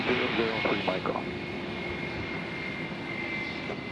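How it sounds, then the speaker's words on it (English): Continuous low roar of a Spirit Airlines jet airliner arriving at Nashville International Airport, a steady distant engine rumble with a voice briefly audible over it. "We got Spirit Airlines coming in from Orlando."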